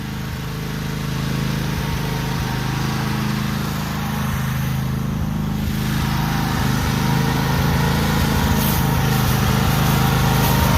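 Cub Cadet Super LT 1554 lawn tractor engine running steadily at close range, a continuous droning hum with no break and no talk across the whole stretch.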